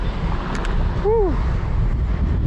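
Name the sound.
wind while cycling in the city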